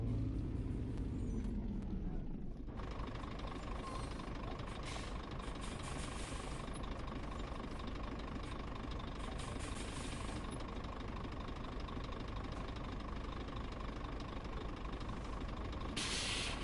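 A truck engine idles steadily in a trucking video game, a continuous low diesel rumble with faint hiss that stays loud and unbroken, briefly quieter at the very start.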